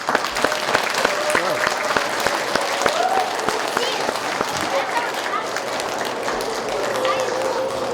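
Loud, sustained round of audience applause at a keynote presentation, dense clapping continuing steadily throughout without a break.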